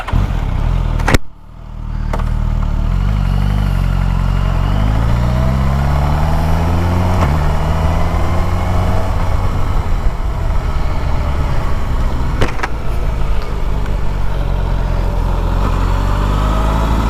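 A 2024 Suzuki Katana motorcycle engine runs steadily while riding, loud and close, its pitch rising through the gears after a brief drop near the start, with wind rush and a couple of sharp clicks.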